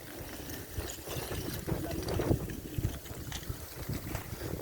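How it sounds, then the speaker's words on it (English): Raindrops land on hot lava on La Palma and hiss away as steam, a faint, rough, continuous sizzle with soft crackles scattered through it, recorded outdoors with no talking. "And now the rain is calming down a little, and the sound is dying down as well."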